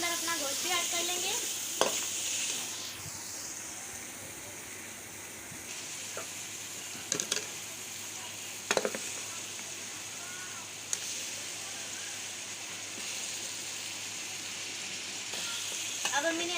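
Bone-in meat and spices being stirred in a pot for Bannu pulao, with a steady soft sizzle under a few scraping knocks of the spoon against the pot.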